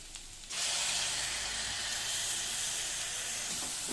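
Banana stem curry hisses and sizzles steadily in a hot pan, a loud, close, unbroken frying sound after a brief quieter start, with no voices.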